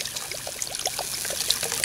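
Water pours from a bottle into a cast iron Dutch oven holding deer soup to deglaze the bottom, a close, soft trickling and splashing stream that runs steadily for a couple of seconds.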